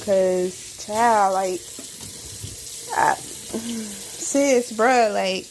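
Tap water runs into a kitchen sink during dishwashing, a steady splashing stream heard close by under a person's chatty talking.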